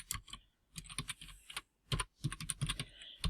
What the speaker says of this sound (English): I just put my cursor in where I'm going to type